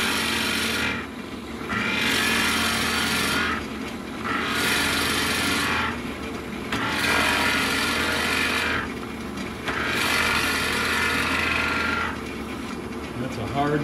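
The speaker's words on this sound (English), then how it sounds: "This is a 3/4 inch Forstner bit." A 3/4 inch Forstner bit bores into a hard piece of walnut, with four long grinding, whirring drilling passes separated by short pauses, close and loud.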